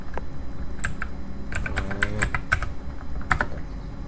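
Someone types commands on a computer keyboard, a quick, uneven run of crisp key clicks with short pauses, close and clear with no talking.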